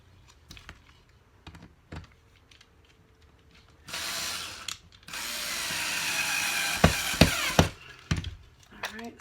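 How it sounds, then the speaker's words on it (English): Hanging wire twisted and wound around screws on the back of a painting frame, with scattered clicks and taps, then a longer scraping, rustling stretch of wire handling, close and fairly loud. "I just want it to be wound around my screws"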